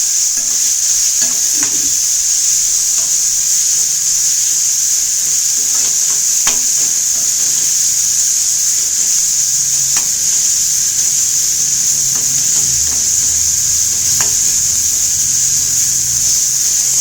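Onions and tomatoes sautéing in a pan for a spicy anchovy dry-fish thokku, a constant loud hiss of frying with occasional faint ladle taps and scrapes, no talking.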